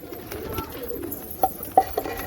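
Thirsty pigeons coo softly beside a filled water bowl in the afternoon, low murmuring calls with a few sharper clicks and taps close by.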